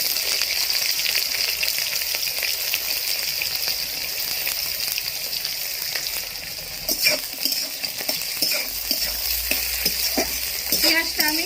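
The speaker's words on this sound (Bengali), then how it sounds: "তেল গরম হয়ে গেছে, পেঁয়াজ দিয়ে দিলাম" Onions hit hot oil in a pan for a spicy small fish curry, giving a loud, steady close-up sizzle that turns busier midway with scraping stirs and crackles, no voices present.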